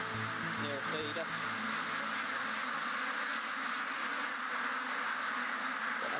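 A duck quacks a few times near the start inside a crowded farm shed, the short calls sitting under a loud, steady broadband roar that continues throughout.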